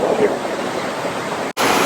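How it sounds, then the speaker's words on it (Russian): Iguazu waterfall at the final viewing platform in the dry season, a close, steady broadband roar filling the scene, briefly cut out near the end before resuming. "Водопад так близко."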